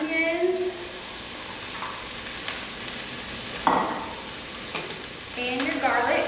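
Green pepper and onions sautéing in a non-stick skillet, a steady moderate sizzle with a few scraping spoon strokes and light clinks, heard alone with no talking.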